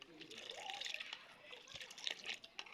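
Mixed yogurt culture poured from a cup while making homemade sour yogurt, giving a brief, close wet trickle and dribble of liquid that runs steadily for a few seconds.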